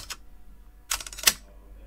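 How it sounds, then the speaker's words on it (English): AI-generated camera shutter effect: a few sharp, dry mechanical clicks, one brief snap followed by a pause and then a quick double click-clack, close and crisp against near silence. "Let's do a camera shutter."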